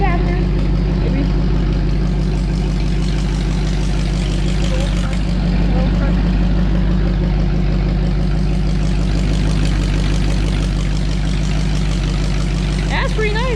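Straight-piped Ford flathead V8-60 idling steadily with a low, even burble, loud and close throughout, while people talk nearby.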